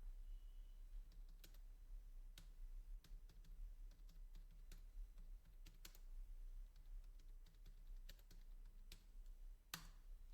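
Close, quiet tapping on a computer keyboard as HTML markup is typed, irregular keystrokes with occasional sharper clicks over a low steady hum, no voices.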